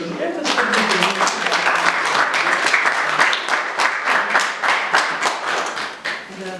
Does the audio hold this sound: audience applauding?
yes